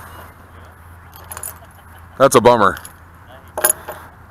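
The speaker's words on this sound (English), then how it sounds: "I feel terrible when I find somebody's keys" Car keys on a ring pulled up from the water by a magnet, jangling and clinking in two short bursts, the first louder and longer, near the mic. A person speaks briefly over the first burst.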